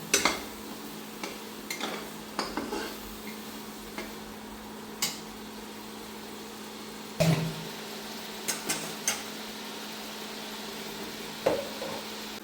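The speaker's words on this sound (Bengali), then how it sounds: "এখন আমি আস্তে ধীরে আলুগুলো একটু কষাবো।" Potatoes being slowly stir-fried in a spice masala with a green chilli in a pan: a faint, steady low sizzle under scattered sharp clinks and scrapes of the spatula against the pan.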